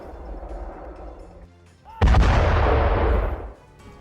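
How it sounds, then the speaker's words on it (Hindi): Explosions from drone attacks on a road in Bryansk and Belgorod during the Russia–Ukraine war: a muffled rumble, then one sudden loud close blast that roars for about a second and a half before cutting away. "ब्रियांस्क और बेलगोर रोड में कई धमाके।"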